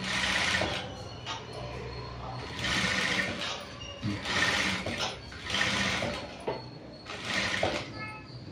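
A sewing machine stitches a princess cut blouse in bursts of steady whirring, several runs separated by short pauses, close and fairly loud.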